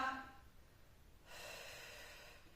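During a Pilates exercise a person takes an audible breath in, then after a short pause lets out a longer, softer exhale, quiet and close with no speech.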